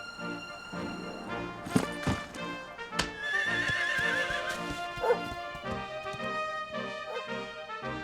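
Horse neighing and whinnying with clip-clopping hooves in Dragon Quest 11, a trusty steed summoned by a bell, loud and close over layered game music.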